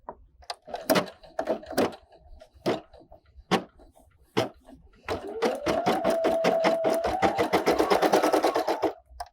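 A Brother embroidery machine stitching an appliqué stem starts with scattered clicks and knocks, then settles into a fast, loud, rhythmic stitching run that lasts several seconds.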